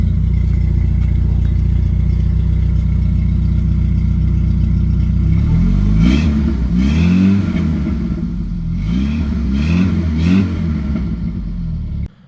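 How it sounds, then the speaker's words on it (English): An old Jeep YJ Wrangler with a new tailpipe tip idles with a deep exhaust burble, then gets revved several times in quick bursts, the rises and falls loud and close before the engine shuts off. "You want to go rev it a couple times for me?"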